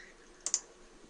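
Two quick keystrokes on a computer keyboard, typed in close succession while drafting in AutoCAD, crisp and near against a quiet room.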